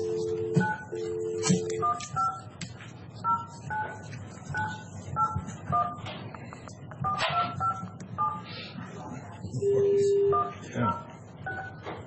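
Touch-tone telephone keypad tones beeping in short irregular bursts during a county commissioners meeting, each press a clear pure tone with a couple of longer held tones, while people talk quietly in the room.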